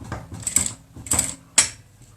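Short bursts of a sewing machine stitching in reverse on a fabric face mask, three quick mechanical clattering runs with brief pauses between, close and crisp.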